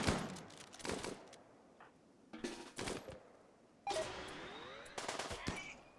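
Gunfire in the video game RimWorld as colonists shoot at ice: loud bursts of rapid automatic shots in several separate volleys, close and sharp, with no talking.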